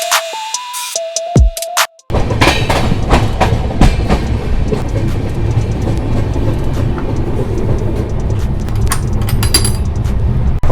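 Shatabdi Express AC chair car pulling out of Mathura Junction, with a loud, steady rumble and rhythmic clickety-clack of wheels on rail joints filling the clip after a brief tonal chime and a sharp start at the beginning.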